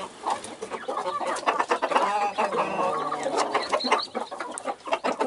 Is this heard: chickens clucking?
yes